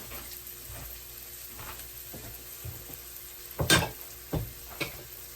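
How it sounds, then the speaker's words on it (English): Onions go into a simmering pan of chicken curry, giving a soft, quiet sizzle. Toward the end there are a few louder clinks and scrapes from stirring. "So to this curry, I'll add a little of my onions."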